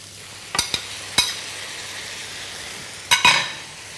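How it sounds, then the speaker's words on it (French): Beef added to a sauté pan of browned onions and mushrooms for stroganoff, giving a steady close sizzle with a few sharp clatters as the meat hits the hot pan. "Je vais rajouter le bœuf à la sauteuse."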